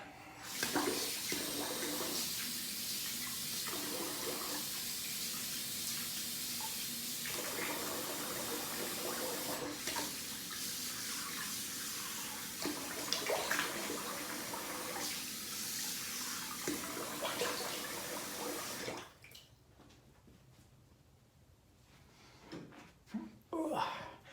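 A bathroom tap runs steadily into a sink for rinsing the face after shaving, a continuous close hiss with splashy changes as hands dip in, stopping near the end, with someone speaking briefly.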